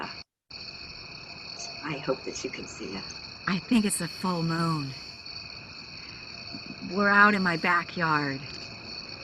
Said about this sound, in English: You can hear the crickets, and there's a full moon